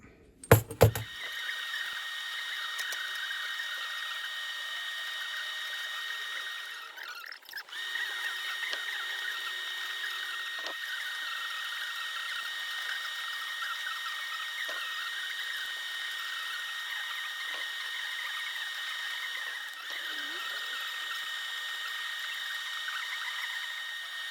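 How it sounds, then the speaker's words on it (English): TIG welding a bracket during the restoration of a 1922 Ner-A-Car motorcycle gives a continuous, even buzzing hiss that runs for over twenty seconds, with a brief break early on and faint clicks scattered through it. "a bit of tigging later, and the bracket's welded up now"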